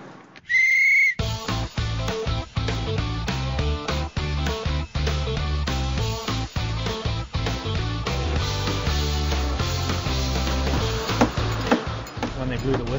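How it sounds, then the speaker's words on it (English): A short, piercing whistle blast opens at a house framing construction site as the crew stands the exterior walls, followed by dense, busy background sound that fills the rest of the span. "Blew the whistle"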